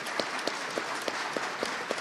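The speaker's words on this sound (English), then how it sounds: "Let's give a round of applause to these candidates so far." An audience at an Oklahoma gubernatorial debate applauds the candidates, a brief, fairly faint spell of clapping with a few distinct claps standing out at a steady pace.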